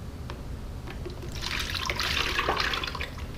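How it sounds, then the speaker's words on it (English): Melted oils for cold process soap poured into a small container, a soft continuous liquid trickle that swells louder partway through, close and alone. "I don't know why I'm pouring this in here."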